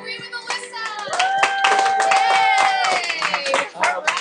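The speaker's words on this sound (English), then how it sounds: "clap if you agree with Alyssa." Students in a math classroom clap their hands briefly in agreement, scattered claps mixed with children's voices and chatter throughout.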